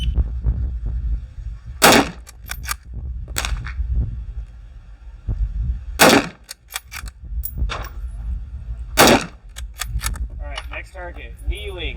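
Rifle shots fired at a standing red circle target in a scout rifle competition ring out as a few sharp, loud reports spaced several seconds apart, with talk and low background rumble between them.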